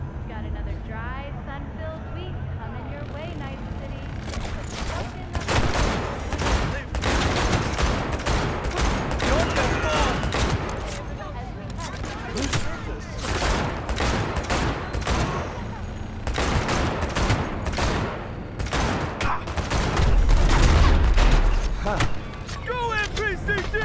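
Heavy gunfire in a Cyberpunk 2077 shootout with police: dense bursts of automatic fire and rapid shots, loud and near, with game effects and talk running under and between the volleys.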